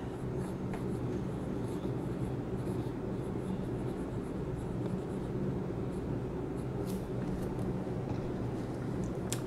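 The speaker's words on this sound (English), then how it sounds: "one thing you notice about this nib and feed combination is it definitely writes a nice wet line" A Sheaffer Triumph fountain pen fitted with an Eversharp nib writing on paper, a faint, continuous scratchy hiss, close up and quiet.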